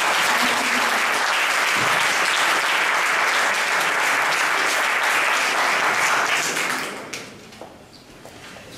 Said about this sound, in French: Donc je pense qu'on peut vraiment les applaudir.